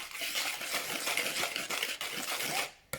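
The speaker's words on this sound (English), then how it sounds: "Give that a bit of a stir." A spoon scrapes and swirls through chocolate cake batter in a bowl, a steady close stirring rasp that runs throughout before stopping abruptly near the end.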